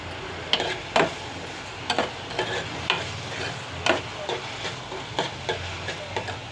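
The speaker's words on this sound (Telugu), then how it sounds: "వేగుతున్నాయి ముక్కలు" Raw banana pieces frying in a pan, with a steady close sizzle broken by repeated sharp scrapes and knocks of a spoon stirring them at an uneven rhythm, without any talking.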